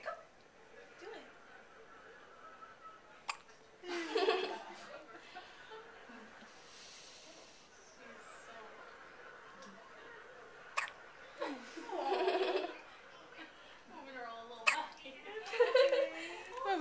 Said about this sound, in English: You hear the hiccups?